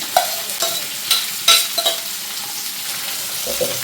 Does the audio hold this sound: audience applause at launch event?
no